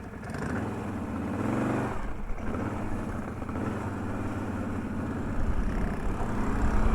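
A tuned car's engine, with a new ignition map and the limiters removed, drones and revs steadily for several seconds, loud and close, rising toward the end on wet sand.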